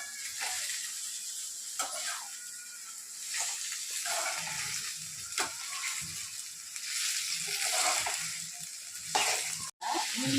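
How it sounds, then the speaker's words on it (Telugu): Cluster beans fry in a pan with onions and ginger garlic paste, giving a steady, loud hiss of sizzling oil throughout, broken by occasional scraping stirs. "అల్లం వెల్లుల్లి పేస్ట్ ఉల్లిపాయలు వేగినాయి ఒక గోచిక్కులు వేసేసుకోవాలి"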